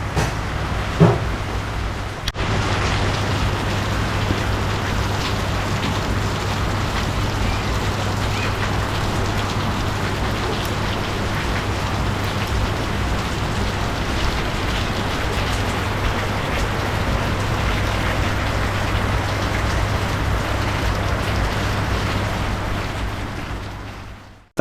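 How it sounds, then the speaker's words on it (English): Steady rain patters on a sailing catamaran in a continuous hiss, with a low constant hum underneath and no voices. "So it's actually welcome, the rain."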